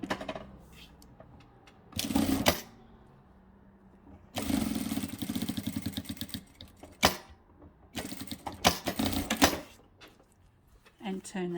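Sewing machine back-stitching a fabric tube, several loud close bursts of rapid mechanical clatter separated by quieter gaps with faint handling noise.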